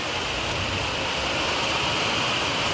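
Monsoon rain falls hard and without pause in Dhaulavalli village, Rajapur, Konkan, making a continuous close hiss that holds level throughout.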